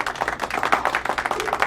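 Hand claps come in a quick irregular run of sharp slaps, close by and moderately loud, with no voices over them.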